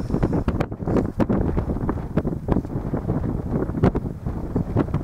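Wind gusts across an exposed hilltop trig point on the Mendip Hills and buffets the microphone in a constant, close, rough roar with repeated sharper thumps from the gusts.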